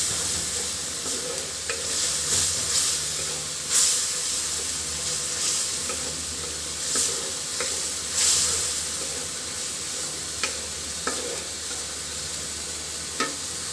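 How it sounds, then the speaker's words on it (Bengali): Masala spice paste with garlic fries in a pan for a fish curry. A steady close sizzle and hiss run throughout, broken by occasional scraping stirs and light clinks. "খুব ভালো করে মশলাটা কষিয়ে নিব।"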